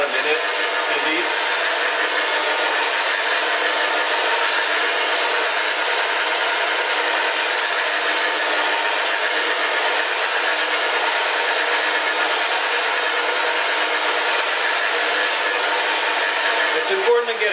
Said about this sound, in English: So I would mix it for, I don't know, about a minute at least.